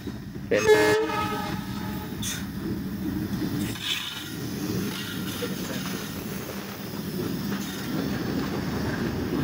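An Indian freight train with covered wagons moves through Darshana rail yard toward the border, sounding a short horn blast early on, followed by a steady low rumble and clatter of wheels that carries on throughout.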